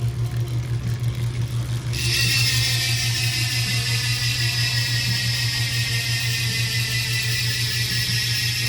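A freewheel hub on G45 gravel bicycle wheels spins up with a loud, sustained high buzz that starts abruptly a couple of seconds in, over a low steady hum, close up, with no talk.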